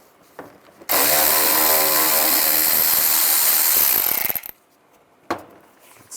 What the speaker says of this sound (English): Use a T20 socket. Take both of those out.